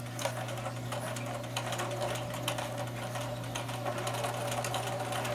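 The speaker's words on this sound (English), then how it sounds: "Now we're going to just stitch the elastic on the end to hold it in place." A sewing machine stitches elastic onto a doll skirt, running in one continuous, fast, even mechanical whir with rapid needle ticking, moderately quiet and without talk.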